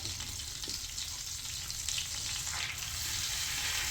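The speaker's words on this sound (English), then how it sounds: "Okay, so that's going to sizzle because it's the flour." Steady, even sizzling of flour frying in hot fat for a roux, with faint stirring scrapes, no voices.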